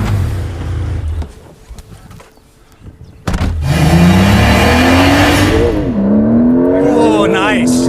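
A Porsche 992 Turbo S Mk II facelift accelerates hard from inside the cabin, the engine note rising loudly through gear changes with a rising whine, after a short quieter stretch with voices.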